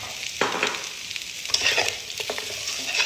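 Roasted masala being stirred into mutton roast in a pan over a low flame, with sizzling frying and several scraping stir strokes, close and moderately loud.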